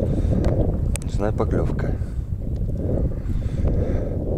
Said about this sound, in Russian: у нас поднялся сильно ветер